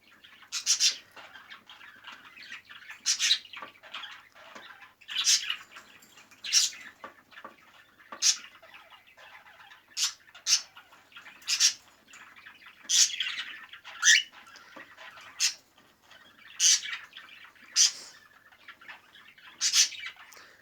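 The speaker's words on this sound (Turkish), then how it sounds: "Dişi kuşumuz da burada." A female budgerigar chirps in a breeding cage: quick, bright tweets and squawks come in short bursts every second or two, close and fairly clear over a quiet background.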